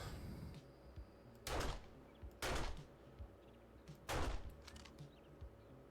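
Gunshots in the zombie survival video game 7 Days to Die, three separate booming reports spaced a second or two apart over a steady background ambience.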